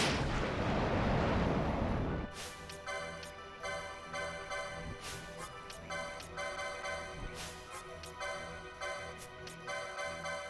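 Fire spell cast in Final Fantasy 12: a loud, roaring broadband burst for about two seconds, then a bright ringing magical shimmer with scattered sharp crackles and ticks that fade slowly.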